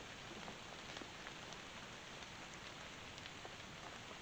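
Steady rain falls through a forest, a dense unbroken patter with scattered individual drops striking close by, loud and constant throughout with no voices.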